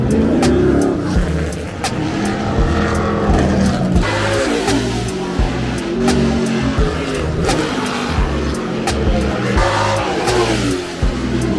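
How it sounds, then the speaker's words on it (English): Race cars at the Trois-Rivières Grand Prix street circuit roar past continuously, engines revving loudly and close by with a steady, dense racing din and no talk. "So this is the Trois-Rivières Grand Prix, and this is some sort of race going on."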